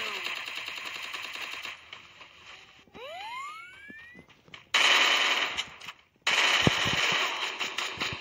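An AK rifle fires in the game Free Fire in long, loud bursts of rapid automatic shots, broken by short quieter gaps and a brief rising whine, with no talking.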